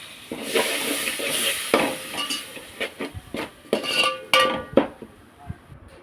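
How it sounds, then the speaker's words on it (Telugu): Masala fries in oil with tamarind juice for a korameenu fish curry, a soft sizzle under repeated clinks and scrapes of a spoon stirring against the pan in an uneven rhythm. "కొద్దిగా చింతపండు పులుసు వేసి ఇంకా సేపు ఫ్రై చేసుకున్నాం"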